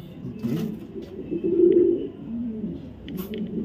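Racer pigeons of foreign bloodline, full down-shape birds kept for sale, give a soft low cooing that swells and fades across the few seconds, fairly close, with faint background noise and no talk.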